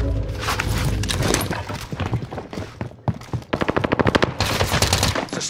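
Dense video-game gunfire in Call of Duty Rebirth: sustained automatic bursts with a rapid rattling run of shots near the middle, loud and close, with other battle noise around.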